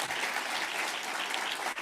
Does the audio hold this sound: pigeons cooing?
no